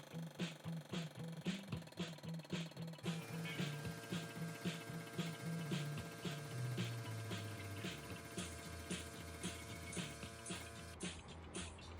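A tube bender working a steel frame tube for a 100+ hp crosskart, a steady rhythmic mechanical chugging and ratcheting with a tone that shifts partway through, fairly faint and close.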